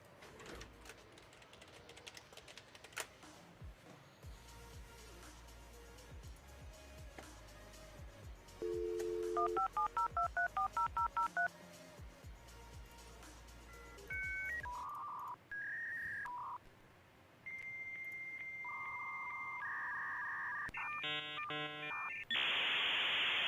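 A dial-up modem connecting: a dial tone and rapid keypad beeps, then screeching, warbling handshake tones and hissing bursts that grow harsher toward the end.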